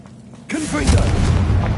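Confringo blasting spell going off in a Harry Potter video game: a sudden loud, close boom with a crackling, rumbling burst that sustains to the end, a short voice shout at the start.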